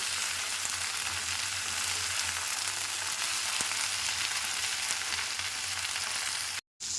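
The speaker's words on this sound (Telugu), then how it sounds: "చూడండి ముల్లంగి ఆకు ఎలా ఫ్రై అవుతుందో చూడండి" Radish leaves fry in a pan with a dense, continuous hiss and sizzle that holds steady and loud, cutting off briefly right at the end.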